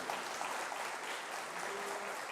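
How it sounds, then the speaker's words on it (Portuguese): Congregation clapping during a church service, a steady wash of applause held at moderate level throughout, faint and somewhat distant, with no speech over it. "Então dá uma salva de palmas a Deus."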